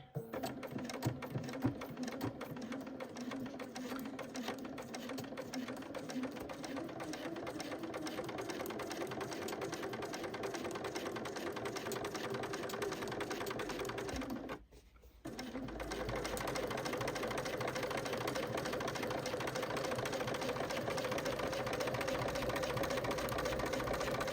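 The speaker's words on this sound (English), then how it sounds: "then we're just going to top stitch just along this edge" A sewing machine top stitching along the edge of a fabric pencil case runs in a fast, steady whirring rattle for long stretches, pausing briefly about midway before resuming, faint and close with no talk.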